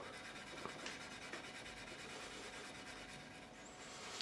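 Steel wool rubbing along the frets of an Encore vintage-style Stratocaster during a fret level and setup, a steady close scratchy rasp that continues without pause and with no talking.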